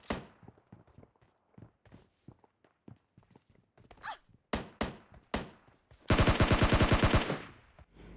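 Gunfire in PUBG Mobile Lite, a mobile shooter game, comes as a sustained burst of rapid automatic shots near the end. Scattered thumps and clicks lead up to it, all fairly close and loud.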